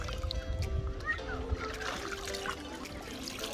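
A Border Collie swimming in murky water: light splashing and trickling sounds that continue steadily, close by, with faint voices in the background.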